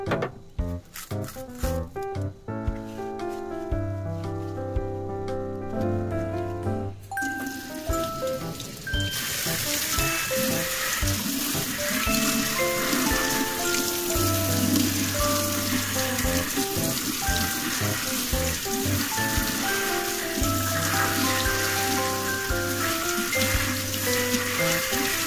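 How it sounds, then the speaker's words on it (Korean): Tap water runs steadily over bunches of perilla leaves being washed, a continuous splashing rush that starts partway through and holds to the end, under gentle background music. "깻잎은 흐르는 물에 깨끗이 씻어 주세요."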